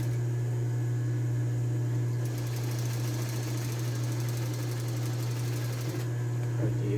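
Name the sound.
sewing machine stitching a blouse seam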